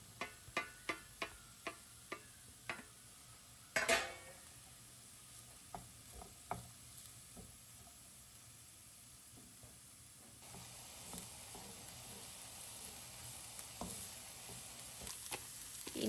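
Vegetables and capsicum stir-fry in a pan for chicken fried rice: a run of sharp ticking taps from a utensil, one loud scrape, then a faint, steady sizzle with scattered clicks, and no talk.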